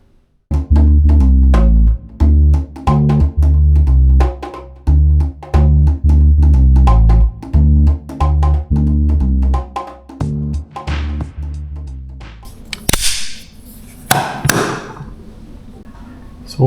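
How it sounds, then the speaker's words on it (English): Moulded resin pistol grips in pearl and black, made for a Denix 1911 replica, being ground down along their sides. The grinding comes as loud, rapid, repeated bursts close by, then grows quieter and more scattered near the end, with no talk. "Grind the sides down on them."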